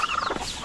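A chicken gives a brief, close cluck lasting under a second, loud and alone.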